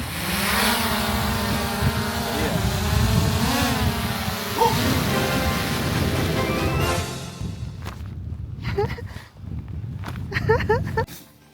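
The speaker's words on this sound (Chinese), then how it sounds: "我们准备来试一下这个无人机。 我们打算在箱子上起飞" A repaired drone, launched from atop a box in Iceland, whines in a buzzing harmonic drone whose pitch rises and dips, then it cuts out, leaving scattered voices and light noises.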